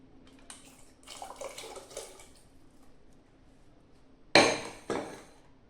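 Two short bursts of water splashing into a pot of sambar near the end, following quieter clinks and stirring sounds.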